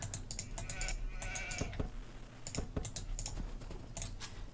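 Sheep bleating in the strategy video game Age of Empires II, short bleats mixed with steady computer keyboard typing and mouse clicks over a constant low game hum.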